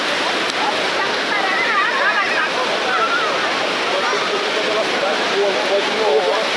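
Ocean surf breaking on the beach at Cabo Frio, with the sea running high, makes a steady, loud, unbroken wash of rushing water throughout.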